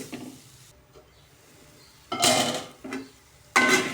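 A spoon scraping and stirring a jaggery mixture with cardamom powder in a pot, producing a few short, clattering bursts separated by quiet gaps, fairly soft and close, with no speech.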